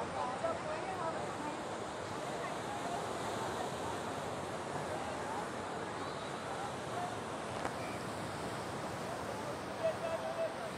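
Sea waves at Bandstand in Mumbai wash in a steady, faint roar of surf with wind against the microphone and soft background activity along the shore.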